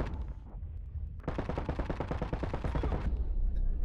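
Rapid automatic gunfire from the astronaut first-person shooter game Boundary, a loud sustained burst of evenly spaced shots lasting about two seconds over a continuous background rumble, with scattered quieter shots before and after.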